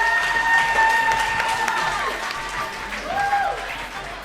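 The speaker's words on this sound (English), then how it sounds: "Please give them a big round of applause." Audience applause for a youth mining panel discussion in Limpopo, with a steady wash of clapping under a lingering voice and crowd murmur, close and moderately loud throughout.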